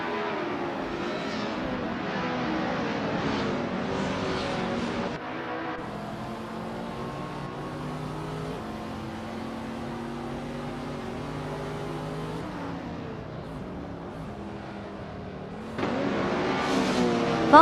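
Race cars in a video game race accelerate and pass each other. Their engines drone steadily and rise and fall in pitch, shifting as cars surge by, with a louder push at the end.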